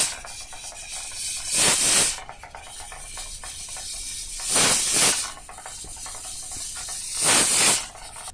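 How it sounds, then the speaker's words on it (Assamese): A pressure cooker holding a little water and sealed with its lid lets out three loud, steamy whistling hisses at even intervals, with a softer hiss continuing in between. "কুকাৰটোৰ ঢাকনিখন বন্ধ কৰি দিম আৰু হুইচেল আহিবলৈ দিম 5-6টা মান"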